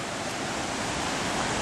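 Stream water rushing through a shaded forest canyon on the Sawtooth Trail in Bitterroot National Forest, a steady broadband wash of flowing water, close and continuous, with no voices.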